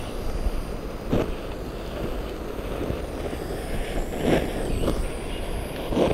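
Steady wind buffeting a microphone outdoors in a garden while strawberry plants are tended, a continuous low rumble with gusts swelling a little louder near the middle and end.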